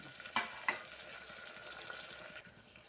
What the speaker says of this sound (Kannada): ನಾನೀಗ ಟೊಮೊಟೊ ಸೇರಿಸ್ತಾ ಇದ್ದೀನಿ.